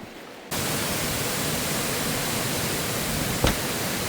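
Oregon's Niagara Falls, a waterfall in the coast range, sets up a steady broadband roar that starts abruptly and holds evenly, with one brief bump partway through.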